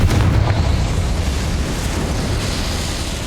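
A Confringo fire spell blasts in Hogwarts Legacy, a loud sustained fiery boom and roar that fills the whole moment with dense low rumble, gradually easing without any talk.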